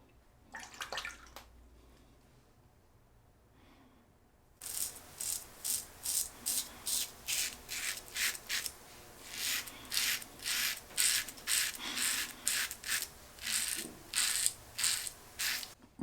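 A Leaf Twig single-edged razor scrapes across stubble in quick, regular rasping strokes, close and crisp after a short quiet lead-in, about a dozen rhythmic passes.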